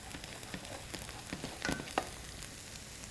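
Arborio rice sizzles softly in melted butter for risotto, a quiet, close crackle with scattered small pops and faint stirring scrapes, no talking.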